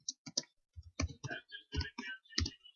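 A computer keyboard clicks as a name is typed on it during a Windows 98 setup, in short irregular bursts of crisp keystrokes, close and quiet, with no talk.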